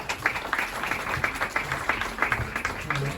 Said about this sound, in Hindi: तालियों से उनका स्वागत करिए।